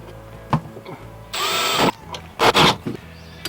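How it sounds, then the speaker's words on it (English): Power drill pre-drilling holes in wood while a Ford Transit campervan is being fitted out. Three close, loud bursts of whining drilling are separated by short quiet gaps and light clicks. "just going to pre-drill the holes"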